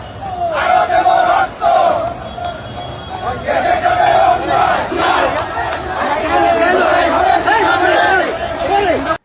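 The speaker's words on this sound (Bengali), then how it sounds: "হ্যাঁ, চাচ্চু দলের মিছিল দেখেন।" Crowd at a political party procession chanting slogans in loud rhythmic group shouts, repeated and sustained, close by, with some talking mixed in.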